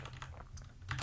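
Rapid keystrokes on a compact 60% computer keyboard, a steady run of close, light clicks with a brief louder burst near the end, no voices.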